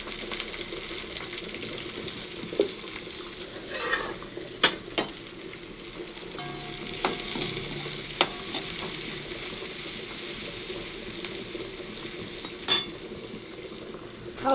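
Onions fry in oil with salt and nigella seeds, giving a moderate, steady sizzle and a few sharp utensil clinks and stirs nearby, without any speech.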